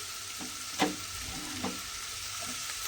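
Small diced potatoes sizzle in a pan with bitter gourd, a steady frying hiss broken by a few clinks of stirring. No voices are heard.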